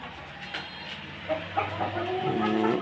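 Ten chickens clucking close by on a small farm, short murmuring calls overlapping and growing busier toward the end.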